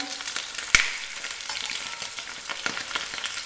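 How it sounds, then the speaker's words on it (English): Rabbit meat browns in hot olive oil, giving a close, steady sizzle and crackle with a sharp clatter early on and scattered pops throughout. "I start to brown half of the meat in hot olive oil"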